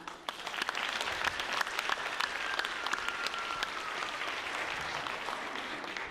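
Sustained applause from a pageant audience at a Mrs. Virginia competition, dense steady clapping filling the room at even loudness for several seconds, with no talk over it.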